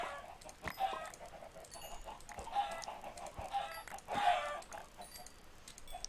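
Chickens in Minecraft give several short, faint clucks spread across the stretch, set against a busy, noisy game background.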